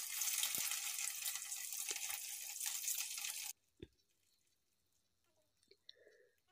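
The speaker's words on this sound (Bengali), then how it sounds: "গ্যাসের ফ্লেমটা মিডিয়ামে রেখে গোলাপ জামুনগুলোকে ভাজতে হবে।" Gulab jamun fry in hot white oil with a loud, steady sizzle and an occasional knock, then the frying cuts off abruptly, leaving near silence with a couple of faint taps.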